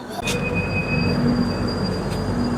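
A Puri to Howrah Superfast Express runs with a steady low rumble and rail noise. A long high wheel squeal rides over it throughout, and no voices are heard.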